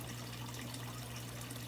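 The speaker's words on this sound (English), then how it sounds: "This clear tube is letting the water in from the sump, from a little aquarium pump or a fish pond pump." A small aquarium or pond pump pushes water through a clear tube into a deep water culture aquaponics tank. The result is a faint, continuous trickling flow over a low steady hum.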